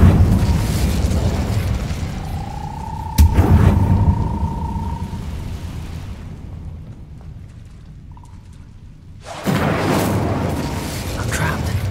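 Incendio fire spell cast in Hogwarts Legacy: a sharp blast around three seconds in with a sustained whooshing roar, a quieter stretch, then another loud burst of flame near the end.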